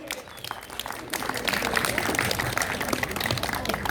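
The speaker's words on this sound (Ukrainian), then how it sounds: "Ваші оплески гучніше, малинчани." Audience applause from a town crowd in Malyn after a performance, steady dense clapping building after the first second and holding loud to the end, with some voices mixed in.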